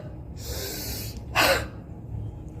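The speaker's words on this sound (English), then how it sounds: "Take deep inspiration" One deep breath drawn during a breathing exercise for clearing the lungs, heard as a soft airy hiss followed by a sharper, stronger rush of air, close and alone over faint background noise.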